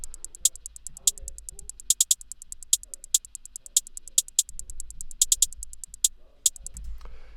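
Two programmed hi-hats panned to opposite sides in an FL Studio beat, playing together as rapid ticks with louder accented hits scattered through, clear and fairly close over a faint low thump.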